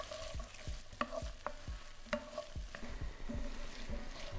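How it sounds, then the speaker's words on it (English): Finely diced onion sizzling in butter and olive oil in a pan, with a spoon scraping and stirring in repeated strokes over a steady close frying hiss. "Now we're going to add in a finely diced onion to the pan and cook for about 3 minutes,"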